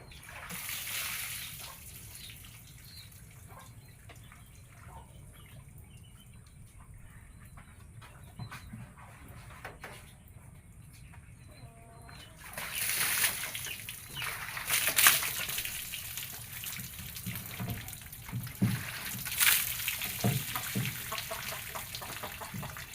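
Water splashes and gushes in bursts while a water buffalo is bathed in a river, growing louder partway through, with a steady wet background and occasional animal sounds nearby.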